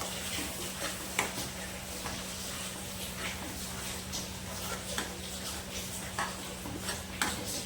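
Paneer masala being stirred in a pan at home, a steady soft scraping and faint sizzle with occasional light clinks of the spoon against the pan, moderately quiet and continuous.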